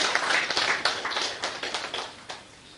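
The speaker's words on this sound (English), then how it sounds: "I want to invite you to give claps and applause to the community members who are here." An audience at a university launch event in Uganda claps, with a loose scatter of distinct hand claps that thins out and fades over a few seconds in a quiet room.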